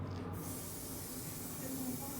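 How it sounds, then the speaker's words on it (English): Aerosol spray paint can hissing in a steady continuous spray during a graffiti workshop in Brooklyn, New York, a broad even hiss lasting throughout at moderate level. "So this is how most people use spray paint"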